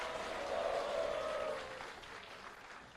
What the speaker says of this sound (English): Can we have a huge round of applause and a loud Hari Bol for Prabhu?